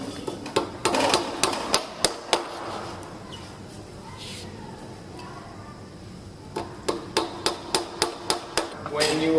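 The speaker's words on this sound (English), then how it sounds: "When you hammer it, you need to hold the top part of the clasp as you hammer it" A center punch and nails are hammered into a metal clasp in a series of sharp, close metallic taps, first in a quick run, then a pause, then another steady rhythmic run of strikes.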